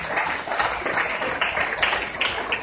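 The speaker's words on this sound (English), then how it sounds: "Let's give a round of applause." Graduates and guests at a school recognition day ceremony break into a short burst of dense, even clapping that lasts only a few seconds.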